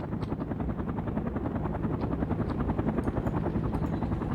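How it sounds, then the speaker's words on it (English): Soviet Mi-24 attack helicopter in the real-time strategy game World in Conflict, its steady rotor thump and turbine whine pulsing close and loud throughout, alone with no voices. "Mi-24 on the move."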